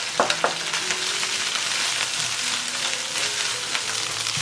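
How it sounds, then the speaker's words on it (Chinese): Garlic and dried preserved mustard greens stir-fried in hot oil in a wok, giving a steady close sizzle with a few scraping stir strokes near the start and no talk. "起锅热油，先把蒜蓉炒香。 接着放入梅菜干，"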